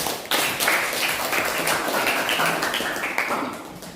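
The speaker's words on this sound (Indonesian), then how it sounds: "tepuk tangan untuk Ramadan" Classroom applause for a student named Ramadan, a dense wash of many hands clapping steadily for the full few seconds at moderate loudness, with no talk over it.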